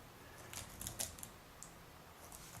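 Soft, scattered key taps on a Dell Adamo XPS laptop keyboard, a few quiet clicks clustered together then isolated presses, faint and close in a quiet room.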